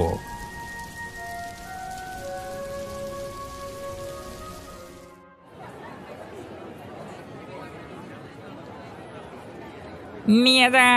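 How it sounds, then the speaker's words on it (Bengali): Cartoon rain effect: a steady, hissing downpour fills the first half, then cuts abruptly to a different murmuring background, with a brief sharp sound at the very end. "বৃষ্টির মধ্যে যাসনি রে এভাবে, বাইরে বাজ পড়ছে তো।"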